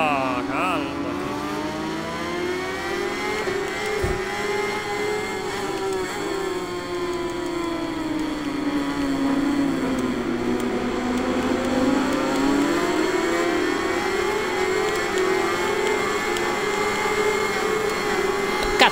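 Motorcycle engine revving steadily in the Ride 5 racing game, a continuous droning whine that rises and falls in pitch throughout, loud and close, with no speech.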